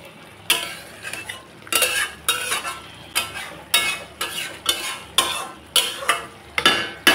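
Jackfruit and potato stirred into frying spices in a pan, with a steady rhythm of about a dozen close scraping strokes over a soft continuous sizzle.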